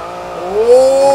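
Porsche 911 GT2 RS whipping through a 180 drift in Forza Horizon 2, engine tone climbing steadily in pitch as it revs, loud and close, with a faint tire squeal mixed in.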